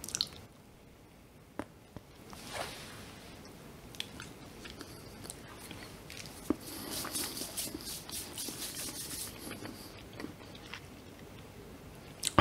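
A homemade Twix bar with a shortbread base is bitten and chewed up close, giving soft crunches and moist chewing noises in an otherwise quiet room with no talking.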